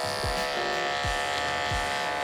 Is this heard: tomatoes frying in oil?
no